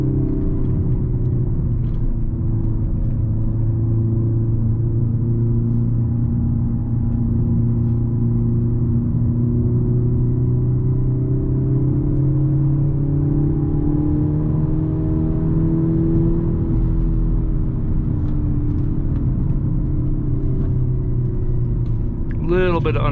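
A 2022 Hyundai Elantra N on a mountain road, its engine droning and rumbling steadily from inside the cabin as revs rise and fall gently through the corners in third gear, with a voice talking over it.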